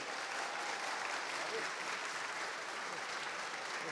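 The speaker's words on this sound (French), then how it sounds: "je vous demande d'applaudir Pierre Hermé." Sustained applause from a seated audience at a pastry fair round-table in honour of pâtissier Pierre Hermé, dense and steady from start to finish at moderate level.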